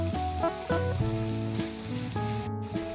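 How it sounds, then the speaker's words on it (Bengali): Chicken pieces coated in spice paste fry in a pan for kabab, a steady close sizzle running throughout under a melodic backing tone, with no talking. "এবার চিকেনের টুকরোগুলো এক সাইড 2 থেকে 3 মিনিট ফ্রাই করে নেব।"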